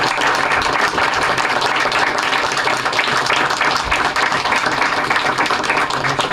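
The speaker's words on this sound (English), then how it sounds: "I think you deserve a round of applause" Steady audience applause fills a township board meeting room, dense continuous clapping from many people at close range, holding at an even loud level without a break.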